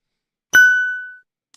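A single bright notification bell ding, struck once and ringing out clearly before fading away over about a second, alone against silence.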